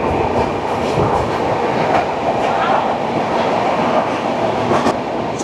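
The Mysore–Howrah superfast express rolls past Andul toward Howrah, heard from on board as a continuous rumble with rhythmic clickety-clack of wheels over rail joints and occasional higher squeals.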